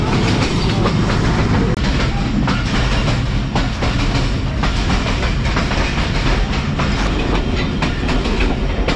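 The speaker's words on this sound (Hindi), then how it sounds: "दूसरी तरफ हरी भरी ट्रेन सियालकोट एक्सप्रेस" The Sialkot Express runs along rails past farm fields, its wheels beating a steady, rapid clickety-clack over a dense, loud rumble that stays close and unbroken with no voices.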